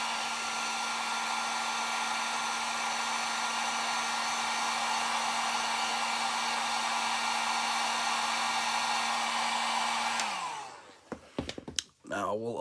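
A hair dryer on light heat warms super glue on a broken Hasbro Fortnite Cluck toy, a steady close whir running about ten seconds before switching off, followed by faint handling sounds.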